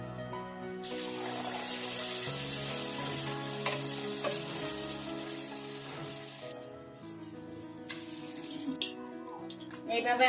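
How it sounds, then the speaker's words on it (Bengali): Batter-dipped eggs deep fry in hot white oil in a kadai, a loud, dense, continuous sizzle that swells sharply as they go in and eases toward the end, with a faint background hum. "এইভাবে আমি ডিমগুলো সব দিয়ে ভাজা করে নেব।"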